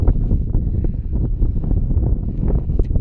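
Strong wind buffets an outdoor spot on a hilltop viewpoint near Kanakapura, a continuous rough rumble with gusty swells pounding the microphone throughout, loud and close with no talk.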